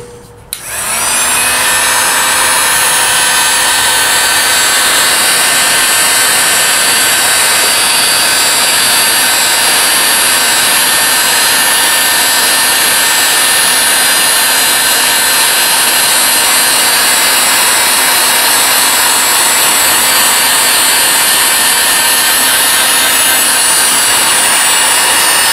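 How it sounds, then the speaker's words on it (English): A heat gun blows hot air to shrink tubing over cable lugs while a DIY travel trailer's inverter is wired, kicking on abruptly and then holding a loud, steady, close roar and whine without a break. "Take my heat gun."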